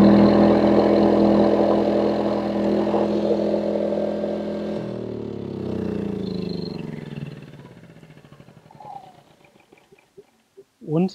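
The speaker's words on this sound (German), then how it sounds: "Und der Generator läuft." EcoFlow Smart Generator backup power unit, a steady engine drone that holds for several seconds, then shifts and fades to a quieter running tone with a few clicks at the end.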